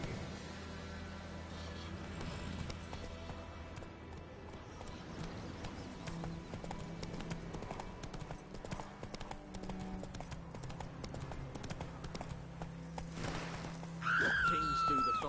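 Roach the horse gallops in The Witcher 3 with a steady run of close clip-clopping hoofbeats over a low hum, and a short whinny rises near the end.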